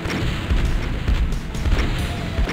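A super shotgun fires in a Doom-style game with heavy, repeated booming blasts that come close together and fill a loud, dense stretch.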